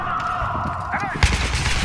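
Gunfire in the video game Battlefield 3, a short burst of rapid shots that jumps suddenly louder near the end, with game effects and a faint voice underneath.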